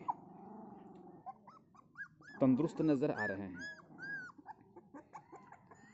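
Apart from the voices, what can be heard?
newborn puppies whimpering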